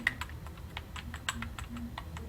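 Keys clatter on a computer keyboard in a quick, uneven run of close, crisp clicks, with a slightly louder press partway through, and no talking.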